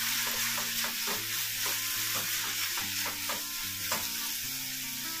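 Dry prawns cooking in a pan with onion, tomato, kokum, salt and turmeric, a spatula stirring in a quick regular rhythm over a constant sizzle.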